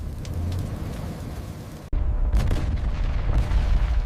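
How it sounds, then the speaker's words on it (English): Stored munitions detonating in a wartime setting: a sharp blast followed by heavy rumbling booms and crackling debris, loud and close, with no voices. "Stored munitions detonate."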